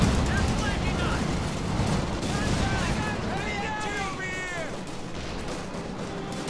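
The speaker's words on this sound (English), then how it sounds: "Anti-infantry strafe has gone in there." An anti-infantry air strafe in a World War II strategy game, a rumbling barrage of gunfire and explosions heard under a caster's commentary, with whistling descending tones layered over the blasts.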